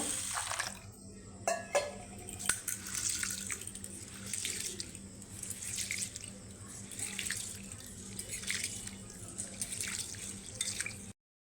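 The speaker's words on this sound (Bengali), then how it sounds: "প্রথমে আমি চালটা ভালো করে জল দিয়ে ধুয়ে নেব" Rice being washed in a bowl under running tap water, a steady splashing trickle with occasional louder sloshes and clinks, close and continuous throughout.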